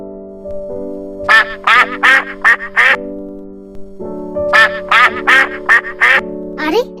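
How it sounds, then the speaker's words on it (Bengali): Ducks quack loudly in two rapid runs of five or six calls each, close by, over a steady musical hum in a children's doll story. "এতগুলো হাঁস হাঁসগুলো কোথা থেকে এলো হাঁসের বাচ্চাগুলো দে কত সুন্দর"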